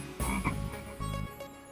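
A cartoon frog croaks in two low, buzzy bursts, each lasting about half a second, up close. There is no talking.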